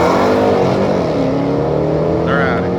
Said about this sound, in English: Drag racing on Woodward.